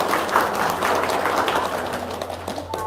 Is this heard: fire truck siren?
no